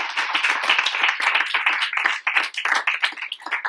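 An audience at a women's day panel event applauds with dense, continuous clapping from many hands, close and fairly loud, steady for several seconds with no speech over it.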